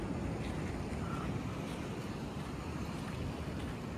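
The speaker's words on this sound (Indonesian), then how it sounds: "Ombak ya sampai ke atas ini ya" Steady broad roar of ocean surf washing continuously at a coral-stone beach on an island, close and fairly loud, with a gusty wind-like hiss over it and no voices.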